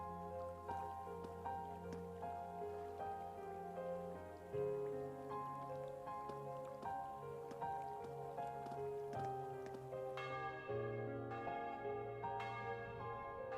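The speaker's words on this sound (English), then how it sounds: "That's bells again." Church bells toll in Trails of Cold Steel III, a steady layered ringing of sustained bell tones that overlap and swell, with a brighter cluster of strikes near the end and no talking.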